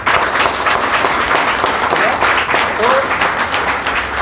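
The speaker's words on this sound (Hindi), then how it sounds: "सोचो कितनी बड़ी बात है, तालियां।" Applause from a gathered audience at a Hindi-language event honouring students selected in UKPSC and UKSSSC exams, a steady dense clapping that holds for several seconds, fairly loud and close, with a voice faintly heard beneath it.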